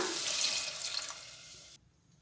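Water poured from a tap into a pot of softened tempered vegetables while making hotel-style sambar, a steady close splashing rush that stops abruptly near the end.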